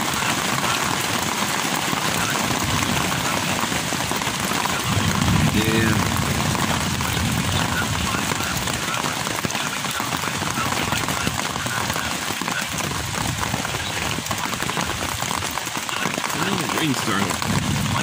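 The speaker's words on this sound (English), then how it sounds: "There's quite a bit of rain right now." Heavy rain falling steadily on a tent during stormy camping weather, a dense, continuous hiss and patter filling the whole stretch, with a faint low engine-like drone briefly passing midway.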